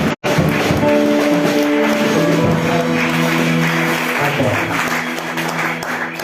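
A church congregation breaks into sustained applause and cheering, a loud, dense wash of clapping with voices rising through it, fading slightly toward the end.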